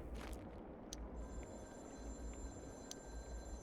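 Telephone ringing in the video game Concluse 2, faint repeating electronic ring tones at a steady rhythm over a low murky in-game ambience, no voices.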